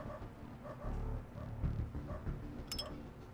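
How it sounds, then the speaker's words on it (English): Dogs barking in the video game Underrail, a few faint, distant barks repeating at intervals over a low ambient game background. "Oh, that also means my headset's on backwards if they're barking from that direction."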